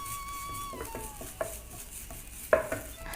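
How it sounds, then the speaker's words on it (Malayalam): Grated coconut roasting in a pan for a Kerala festival dish, with a few soft scrapes and clinks of a spoon stirring against the metal, quiet and close with faint background hum. "ഒരു ബ്രൗൺ നിറമാകുന്ന വരെ നമുക്കൊന്ന് വറുത്തെടുക്കാം. ഇളക്കി കൊടുത്തോണ്ടിരിക്കണം"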